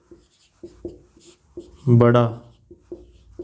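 Marker or chalk strokes on a classroom board during a Class 12 maths probability lesson, soft scratchy taps and short strokes scattered under a teacher's steady nearby talk.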